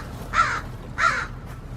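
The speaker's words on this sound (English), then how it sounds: "we just found a crow on our way to find death" Two loud, harsh crow caws a little over half a second apart, heard outdoors alone against a faint background hum.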